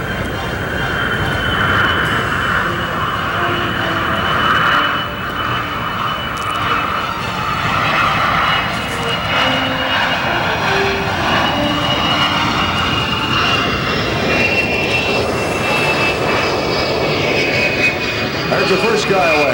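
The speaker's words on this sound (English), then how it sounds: "And again, let's watch and listen. The C-141 Starlifter." A C-141 Starlifter flies overhead at a 1994 airshow, its jet engines producing a loud, sustained roar that rises and shifts in pitch as it passes, with crowd or commentary voices faintly underneath.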